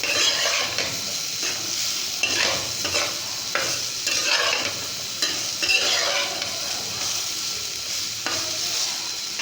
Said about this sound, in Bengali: এখন আমি এখানে একটু ঝোল দিয়ে দেবো।